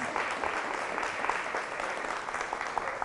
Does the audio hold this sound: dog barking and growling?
no